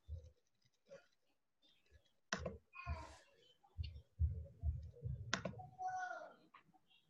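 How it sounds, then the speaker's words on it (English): Mouse buttons on a computer click in scattered, irregular bursts, some sharp and close, mixed with faint murmuring voice sounds in a quiet room. "Start clicking stuff."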